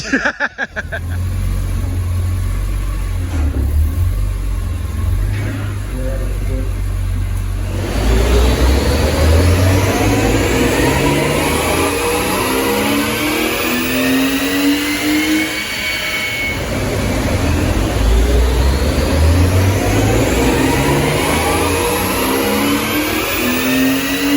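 A BMW M3 revving hard on a chassis dyno, the engine sweeping up through the rev range in two long loud pulls with a brief drop between, droning and rising steadily with no talk.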